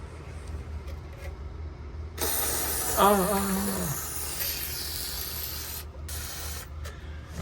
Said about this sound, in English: Gotta get the penetrant shot.